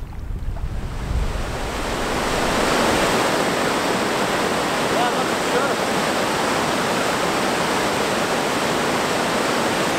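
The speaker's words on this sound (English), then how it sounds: "we started to hear the familiar rumble of whitewater in the distance." A roaring 75-foot waterfall of whitewater in Labrador, a dense, steady rushing wash that swells in the first couple of seconds and then holds loud and constant.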